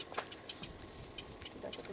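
Very small birds at a beach conservation park in Panama City Beach give faint, quick chirps, scattered brief notes in a quiet outdoor setting.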